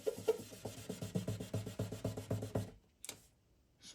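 Rhythmic back-and-forth rubbing of 2000 grit sandpaper over a cured drop fill of zap glue on a guitar's nitrocellulose finish, about a dozen quick close strokes, then a pause and a single soft knock.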